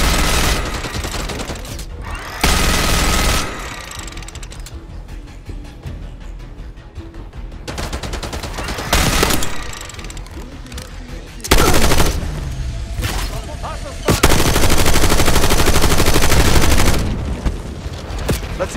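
Machine gun fire in a Call of Duty Black Ops 6 campaign ambush: loud bursts of automatic gunfire in several blocks, separated by quieter stretches of mechanical clatter and distant shots, with a heavy sustained burst near the end.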